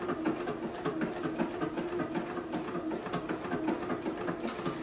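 A JUKI sewing machine stitching a beverage coaster at a slow, steady pace, its rapid needle rattle running continuously and close up from start to finish.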